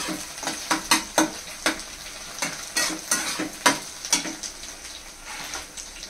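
Ginger garlic paste fries in a pan with a gentle sizzle, broken by a quick series of sharp scraping stirs from a spatula, close up and with no talk.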